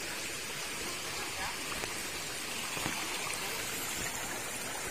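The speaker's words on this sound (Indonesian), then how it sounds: "Kita nyebrang sungai ya, Kakak Makayu." Stream water rushes steadily while a river is crossed on a forest trek through Perhutani land from Gomblang toward Ketenger, a constant hissing flow with faint splashes scattered through it.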